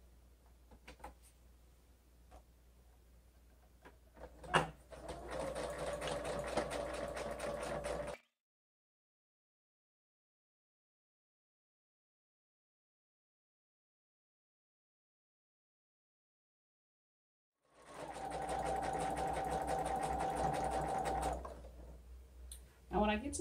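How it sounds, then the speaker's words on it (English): A sewing machine stitches fabric pieces for a New Look 6273 garment in two steady running bursts with a silent stop between them, a mechanical hum at moderate level with brief stitching starts and stops. "I'm going to take it to the sewing machine and sew around"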